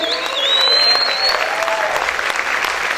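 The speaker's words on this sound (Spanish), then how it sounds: "Aplaude, aplaude fuerte a tu Señor." A church congregation claps steadily and loudly throughout a worship service, with a sustained sung or held tone carrying over the applause.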